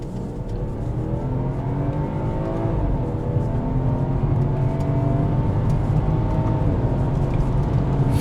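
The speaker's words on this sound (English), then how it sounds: "Let's go into manual here. Let's do a second gear launch." A BMW 540i G30 with a Stage 1 tune launches in second gear, its engine droning loud and steady from inside the cabin as the revs climb in one sustained pull, with no talk over it.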